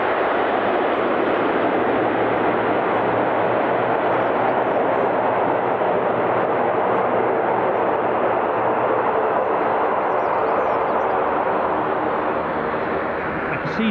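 A United Airlines airliner on final approach at Edinburgh airport makes a loud, continuous broadband roar that holds steady throughout.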